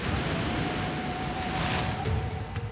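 Ocean surf on a windswept South Pacific archipelago in Fiji rolls as a dense, steady roar, loud and continuous, with wind and the faint drone of a boat beneath.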